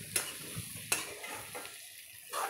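Vadas tossed in hot tempering oil with turmeric give off a soft, steady sizzle, with several distinct scraping strokes of a spoon against the pan as they are mixed.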